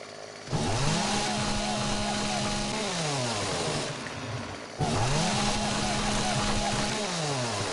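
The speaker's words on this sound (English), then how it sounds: "The chainsaw is a bit unnecessarily loud" A loud chainsaw cuts trees in the survival video game 7 Days to Die, revving up hard, holding a buzzing whine, then dropping off before a second rev-and-cut cycle begins.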